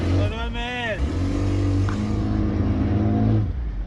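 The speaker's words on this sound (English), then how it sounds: "The engine is really struggling because it's stuck in the water and the mud." A boat engine labors while stuck in water and mud on Lake Maracaibo, Venezuela, holding a steady, heavy low drone from start to finish as voices talk over it.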